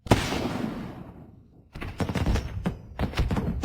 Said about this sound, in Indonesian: Itu kembang api.